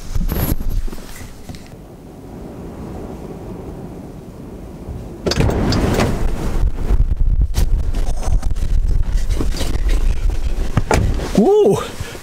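Strong wind rips across an open outdoor spot, buffeting the microphone with deep, rumbling gusts that swell louder midway and stay heavy to the end.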